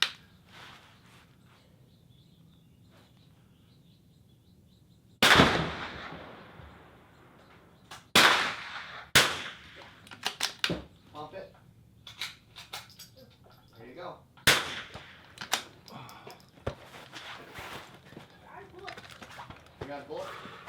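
A pump-action gun fires at a shooting range, giving several sharp, loud reports spread over the clip, with mechanical clacks of the action between shots and people talking in the background.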